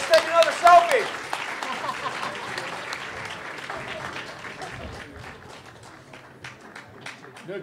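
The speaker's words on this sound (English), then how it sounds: "No, keep clapping." A convention crowd at CT HorrorFest claps loudly, opening with a burst of applause over a brief voice, then settling into dense, sustained clapping that slowly thins and fades toward the end.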